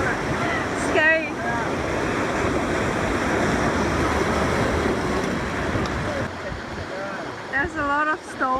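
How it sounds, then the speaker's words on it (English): Choppy, wavy water of a raging river running over a stony bed after heavy overnight rain, a loud continuous rushing churn close by with wind buffeting, and voices speaking briefly over it near the start and end. "that's why the water is so choppy"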